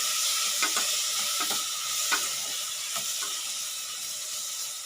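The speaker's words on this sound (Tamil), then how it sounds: "இப்போ வாழைப்பழத்தை இதிலே போட்டு வதக்கலாங்க" Banana sautéing in a pan over a low flame for a sweet banana bun, a steady soft sizzle with occasional light scrapes and stirring clicks from the utensil, close and continuous without any talk.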